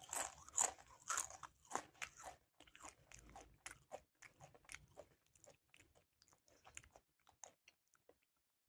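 Close crunchy bites into Carlito chocolate with sweet lime, several sharp crackling bites early followed by quieter chewing that fades out, with no talking.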